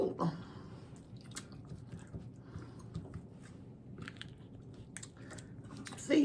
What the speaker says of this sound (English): See, the little shell on the outside is a little crunchy.